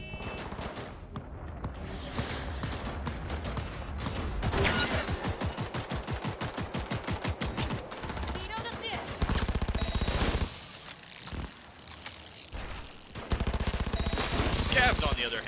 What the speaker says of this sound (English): There's another firefight down here.